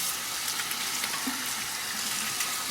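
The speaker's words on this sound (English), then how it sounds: "I'm gonna rinse my fingers." Running tap water pours steadily over fingers at a sink, a soft continuous hiss with no voices.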